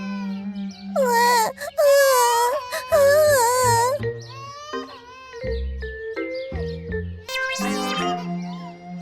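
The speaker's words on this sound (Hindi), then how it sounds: "सुबह होने पर मुन्ना के रोने की आवाज सुनकर भोला की आंख खुल गई।" An infant's cry in an animated Hindi children's story, high wavering wails and whimpers rising and falling in loud bursts, with music and other sound effects around it.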